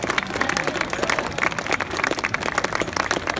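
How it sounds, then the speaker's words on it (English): Hands clapping on Grafton Street in Dublin, a dense run of sharp overlapping claps like street applause, fairly close and loud, with no talk over it. "Yep. I clap."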